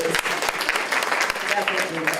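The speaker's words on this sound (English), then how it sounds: "Another round of applause for him." Audience applause after a speech at an event, a dense steady clatter of clapping with a few sharper individual claps, mixed with cheering voices throughout.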